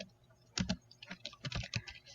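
A rename command being typed on a computer keyboard: a short burst of quiet, close key taps, starting with a couple of firmer strokes, then a quicker scattered patter.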